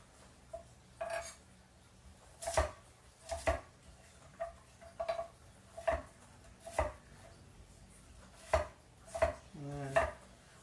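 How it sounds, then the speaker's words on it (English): A knife cuts a carrot into sticks on a board, about a dozen sharp close chops in an uneven rhythm with short pauses between them, no talking. "And then we cut some sticks."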